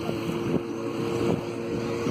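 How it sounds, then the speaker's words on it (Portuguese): A motorboat heading from a beach on Itaparica Island out toward a nearby island gives a steady, moderately distant engine drone blended with wind noise, with no speech over it. "Aí vai a lancha, ó. Ali vai direto pra aquela ilha."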